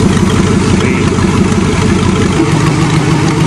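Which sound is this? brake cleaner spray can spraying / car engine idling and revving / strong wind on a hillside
car engine idling and revving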